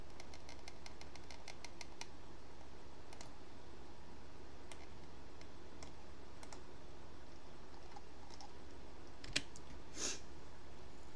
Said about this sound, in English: I just hit 5 on my keyboard as indicated there.